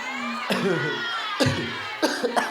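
A few sharp coughs, loud and close, spread over a couple of seconds against a busy background of voices.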